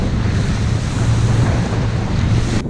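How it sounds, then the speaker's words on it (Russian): Rough sea waves at the exit of Kola Bay surge and wash in a constant loud roar heard from a boat, with heavy wind buffeting the microphone. "На выходе из Кольского залива достаточно серьезная волна."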